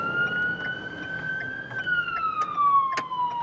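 A police siren wails steadily under a dense wash of background noise, its tone holding level and then sliding slowly downward, with a few sharp clicks and ticks breaking through near the end.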